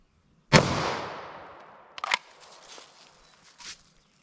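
A single sharp .40 S&W pistol shot fired into denim and ballistic gel cracks out and rings off in a long decaying tail, followed by a couple of fainter clicks and handling sounds.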